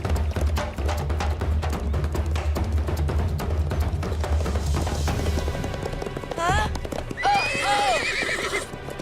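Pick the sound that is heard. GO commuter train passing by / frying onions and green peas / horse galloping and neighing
horse galloping and neighing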